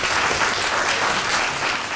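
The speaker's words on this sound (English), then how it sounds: "Round of applause, Tracy." Sustained audience applause at an evening talk on living with MS, dense steady clapping filling the room at an even level throughout, no voices over it.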